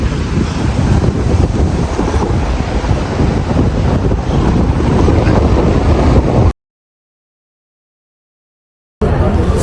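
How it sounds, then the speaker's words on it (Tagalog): Strong gusty wind buffets the microphone at a river marina in Chicago on a cold day, a loud continuous roar for about six seconds, then a sudden cut to silence before the roar returns. "this is the strong wind that welcomed us"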